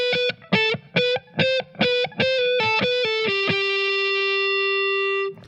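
A distorted electric guitar plays a short riff of chopped, repeated notes, then lets the final chord ring out and sustain for a couple of seconds.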